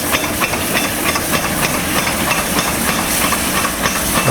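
Steam locomotive Mayflower runs with clattering, knocking big ends, a loud continuous hiss and rattle of steam and machinery close by, with no voices.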